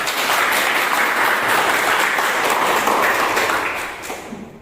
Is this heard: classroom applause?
yes